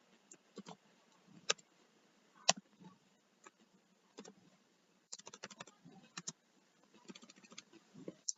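Quiet clicking of a computer keyboard as someone types code, irregular single taps at first and then quicker bursts of keystrokes, with no talking.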